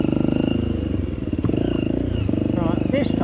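A motorcycle engine sputters and stumbles after a flame-out while riding ravines in the rainy season, its uneven harmonic drone running loud and close throughout with clattering bursts.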